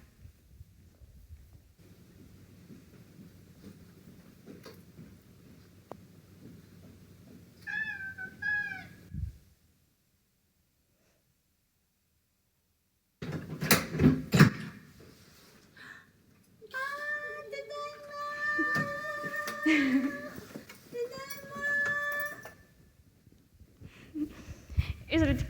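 A cat meows a few times, clear and close, with pauses and a silent gap between bursts, amid soft rustling and background noise.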